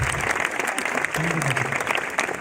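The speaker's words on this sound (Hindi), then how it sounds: "एक बार इन दोनों के लिए जोरदार ताली होना चाहिए दोस्तों" A crowd at a 16th anniversary gathering gives loud applause for two people, steady clapping over a murmur of voices with someone speaking over it.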